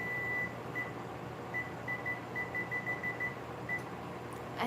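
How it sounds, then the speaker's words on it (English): A kitchen timer beeps in short, evenly spaced high pips, fairly faint over a steady background hum during macaron baking. "Oops, I forgot to reset the timer."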